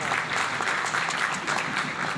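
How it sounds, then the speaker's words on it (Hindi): An audience applauds steadily throughout at a company education academy launch event in Delhi, dense clapping holding a constant level with no pause. "जितने उत्साहित होकर आप ताली बजा रहे हैं"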